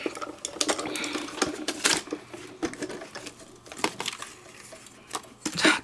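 Paper and a doily die run through a Diamond Press die-cutting machine, giving a rapid clattering, crunching mechanical rattle that continues steadily through the clip with sharp clicks, up close with no talk.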